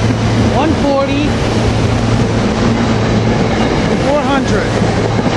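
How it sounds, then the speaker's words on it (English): Commuter train 6248 bound for Norristown rolling past a station, a steady loud rumble with rail rattles and squeals throughout, heard close up. "Here we got train 6248 heading to Norristown with rail cars 117,"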